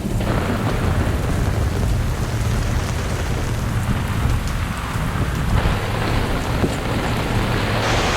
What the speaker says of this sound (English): It's really raining cats and dogs, and there's a lightning and thunder.